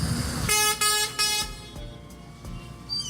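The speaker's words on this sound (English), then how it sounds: "The honking is on board." Car and truck horns honk in busy Indian street traffic, several loud blasts in quick succession followed by shorter toots over a steady rumble of road noise.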